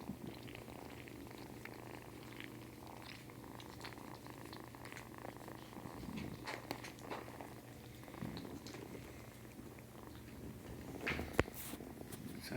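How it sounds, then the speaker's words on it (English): A soft, steady purr rumbles close by, low and continuous, with faint rustles and small bumps around it and no voices. "Can you hear that purr?"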